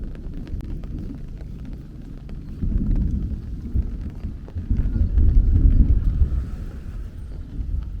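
Low, rolling thunder rumbles through steady rain and wind noise, swelling in the middle then easing off; no voices.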